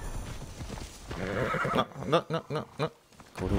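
Horse hooves clip-clop and a horse whinnies in the video game Assassin's Creed Odyssey, with several sharp distinct hoof beats in a row close by, following a man's brief speech.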